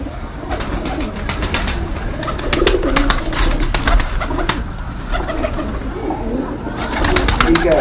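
Pigeons of assorted breeds cooing steadily through the whole stretch, a close, continuous throaty murmur over outdoor background noise, with bursts of higher bird chatter.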